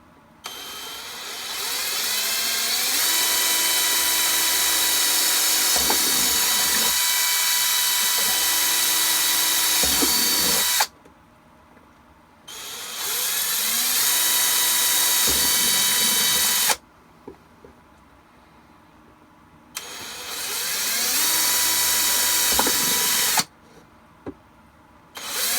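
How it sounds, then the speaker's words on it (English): A power drill bores pilot holes into plastic armor teeth for a Shadow Trooper build, three long bursts of steady high whine, each rising as it spins up, separated by short quiet pauses with small clicks. "I'm going to just drill a pilot hole in each of the teeth very gently"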